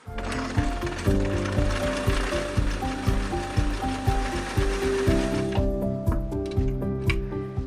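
A manual Touch and Sew sewing machine running a twin needle stitching pass after a tension adjustment, steady mechanical clatter and ratcheting rhythm sustained near and loud throughout, with no talking.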